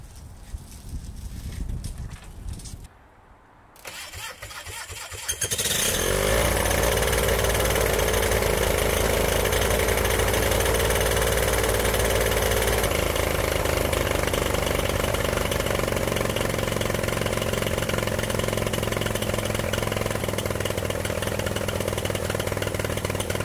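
A mini airboat engine, a small trashy engine, sputters and cranks a few times, then catches and roars steadily at close range, running loud and continuous with a slight rise in pitch.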